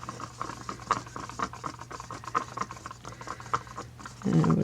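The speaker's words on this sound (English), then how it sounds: "Now let's stir this one up." A stir stick mixing purple pour paint in a cup, giving a soft, rhythmic scraping and sloshing pattern, close and fairly quiet, steady throughout with a slightly louder scrape at the end.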